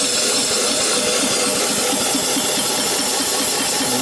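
A boiler-fed steam engine with eccentrics and a globe-valve throttle runs close by: loud, continuous hissing steam with a fast, steady chuffing pulse underneath, and no talk.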